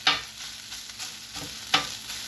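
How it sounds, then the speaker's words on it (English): A metal spatula chops and scrapes meatball meat frying on a flat-top griddle, with two sharp clacking strikes over a continuous loud sizzle. "If you see a bigger piece, give it a chop."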